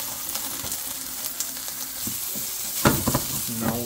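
Carrots stir-fry in a hot pan, a steady near sizzle punctuated by a few sharp utensil knocks and scrapes toward the end.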